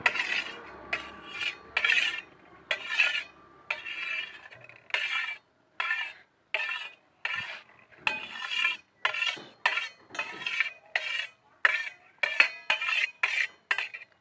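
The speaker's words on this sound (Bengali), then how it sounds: "তেলটা নাড়া হচ্ছে" A metal utensil scrapes and clinks against a pan while oil is stirred, in a regular series of sharp strokes separated by brief pauses, close and moderately loud with no talking.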